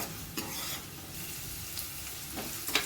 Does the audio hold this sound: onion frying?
yes